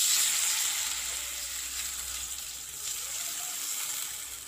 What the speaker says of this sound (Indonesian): Sekarang kita masukkan airnya.